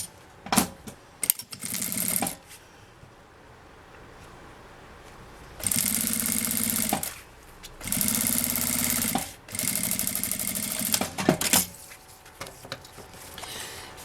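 Sewing machine stitching a seam on a transparent-window toiletry pouch, running in several short bursts of a few seconds each with quiet pauses between, close and fairly loud, no talking.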